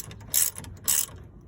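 Ratchet snugging brake caliper bolts during a brake, caliper and rotor replacement, with two short, loud, crisp bursts of rapid ratcheting clicks close up, separated by a brief pause, and no voices.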